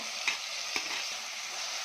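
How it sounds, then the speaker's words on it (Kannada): Two tomatoes fry in a pan for bele saaru, a steady close sizzle broken by a couple of soft scraping stirs, with no voices. "2 ಟೊಮೊಟೊ ತೊಗೊಂಡು ಇದು ಮಾಡ್ಕೊತಾ ಇದ್ದೀನಿ, ಹುರ್ಕೊತಾ ಇದ್ದೀನಿ"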